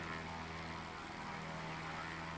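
Steady propeller airplane engine drone in the MX vs ATV Unleashed racing game, a constant dense hum with no breaks, heard alone without voices.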